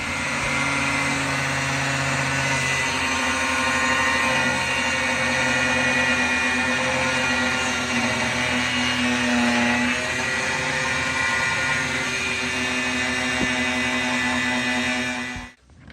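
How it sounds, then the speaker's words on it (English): Power tool cutting through the bottom coil of a 1968 Mustang coil spring, a steady loud whining buzz with a constant droning tone, close and continuous before cutting off abruptly at the end. "that'll cut this whole bottom coil off"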